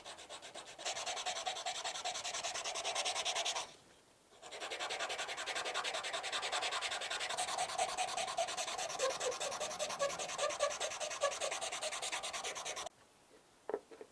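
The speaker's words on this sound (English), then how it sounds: "Using your sanding block, you can now smooth off" Steady, continuous rasping of a sanding block rubbed back and forth over wood, close and fairly loud, with a brief pause partway through.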